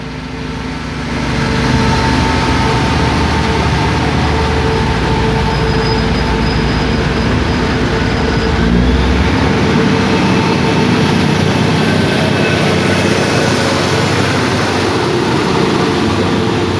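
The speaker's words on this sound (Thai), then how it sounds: "ขบวน 8 นะมุ่งหน้าสู่สถานี ปลายทางกรุงเทพนะ" A special express diesel railcar train rolls through Samsen station in Thailand, its heavy engine and wheels producing a loud, continuous rumble close by, with faint squeals riding over the steady roar.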